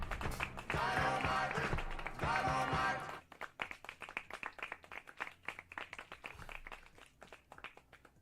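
A burst of dense, loud clapping and applause for a couple of seconds, then sparser, individual claps continuing at an uneven rhythm, close by.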